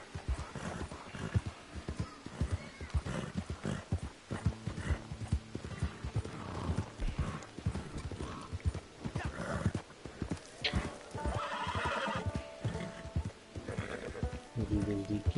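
A tired horse in the Red Dead Redemption 2 Online beta gallops with steady clip-clop hoofbeats and lets out a loud whinny near the end, mixed with game music and occasional talk.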